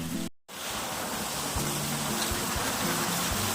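A waterfall gives a continuous broad roar of rushing water, loud and steady after a brief dropout at the start, with faint low thumps underneath.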